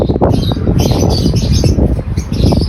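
Pigeons from a loft taking flight on a hot midday, a close, loud flurry of flapping wings with rapid repeated wingbeats, joined by soft chirps and coos.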